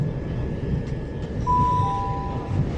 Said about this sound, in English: I think this is the water train just coming into view.